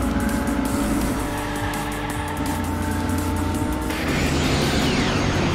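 A race car engine roars in the video game Hot Wheels Unleashed, a loud continuous whine with shifting pitch and tire noise throughout, with no speech over it.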